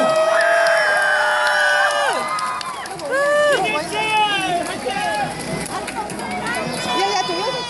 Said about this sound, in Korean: 큰 박수로 맞게 보십시오